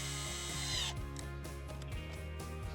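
A cordless Milwaukee power tool whines at high speed, then chatters with a rapid ratcheting, pulsing rhythm as it drives in a fastener during a Polaris Ranger 1000XP back glass install, close up.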